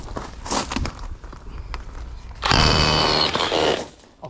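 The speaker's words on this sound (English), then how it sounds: "I'll put it on drilling, start a fresh hole." Bosch SDS Max drill boring into brick and block, a steady loud grinding whir that kicks in sharply and runs close for about two seconds before cutting out, after quieter knocking and handling noises.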